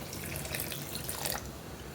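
Boiled water is poured into a blender jar for a milkshake, a continuous splashing trickle at close range with a brief brighter burst midway.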